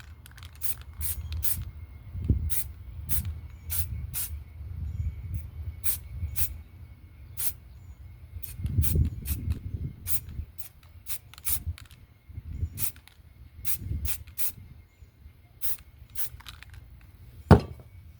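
Spray paint can dusting black over a pyramid and moon painting, heard as a series of soft, short hissing bursts with sharp clicks and light rubbing between them, close by and fairly quiet, no talking.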